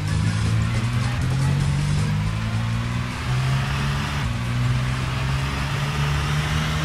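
A car in the Project Zomboid video game driving flat out at full speed, a steady loud engine drone holding constant throughout with a slight dip midway.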